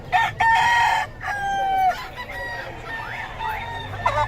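Gamefowl roosters at the Bocaue market crow loudly up close in long drawn calls, followed by further crows and clucks from several birds against a busy market background.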